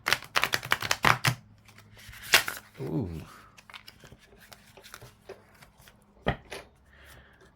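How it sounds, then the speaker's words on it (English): A tarot card deck is shuffled by hand in quick, crisp bursts of riffling and tapping, with sharp clacks and pauses between passes and a brief spoken exclamation in the middle. "It's time to shuffle these cards up."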